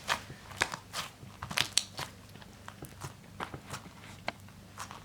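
Soft, repeated crunching and crackling pops at close range, irregular and quiet, as crunchy slime is pressed and squeezed.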